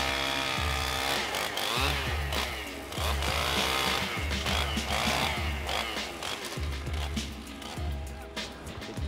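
A chainsaw roars close while felling a tree in the forest. The engine rises and falls in repeated loud revs with brief dips across the whole stretch.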